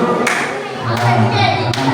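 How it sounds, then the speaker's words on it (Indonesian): Three short, sharp bursts of group clapping in a coding lesson classroom, evenly spaced and close, with voices talking between them. "Ya, beri tepuk tangan untuk silakan dulu."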